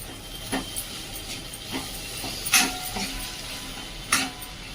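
A spoon stirs beetroot curry in a pan, scraping in a few separate strokes over a low, steady hiss of cooking.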